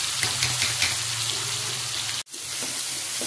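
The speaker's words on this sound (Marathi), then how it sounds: "गॅसवर तेलामध्ये कांदा घालून घ्यायचा" Finely chopped onion frying in hot oil on a gas stove, a steady close hiss of sizzling with faint stirring, cut by a brief dropout near the end before the sizzle resumes.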